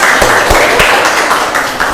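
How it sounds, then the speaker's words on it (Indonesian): Brief burst of classroom applause for a presenting student group, several sharp claps standing out over a dense patter of hands, loud and close. "Tepuk tangan buat kelompok 2."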